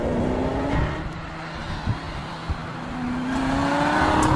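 2016 Chevrolet Corvette Z06 accelerating: a loud engine drone heard from inside, whose pitch dips and then climbs steadily as the revs rise, with faint bumps and no talking.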